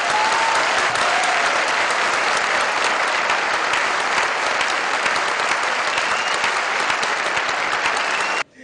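Sustained, loud applause from a seminar hall audience at a training event's anniversary gathering, dense and steady for about eight seconds before cutting off abruptly.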